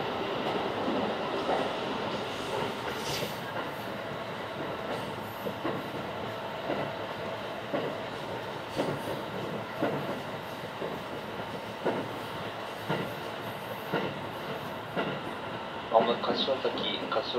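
A rapid Ohayo Shinetsu service bound for Niigata pulls into Kashiwazaki station. Heard from inside the carriage, it makes a steady rolling rumble with faint rail clicks and brief squeaks as it slows.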